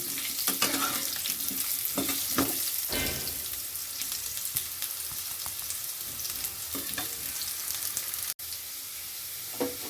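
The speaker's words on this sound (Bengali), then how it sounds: "আলুগুলোকে একটু লাল লাল করে ভেজে নেব" Potatoes sizzle and crackle steadily in a hot pan, browning for a Bengali dhokar dalna, with a dense close frying hiss throughout and occasional stirring scrapes.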